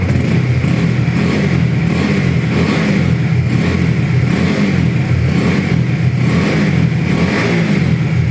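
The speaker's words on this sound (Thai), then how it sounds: "ลองฟังเสียงเครื่องดีกว่าครับ" A 2018 Honda CB150R motorcycle with about 7,000 km on it, its engine running loud and close with a steady throbbing idle and slight rhythmic surges, no voices.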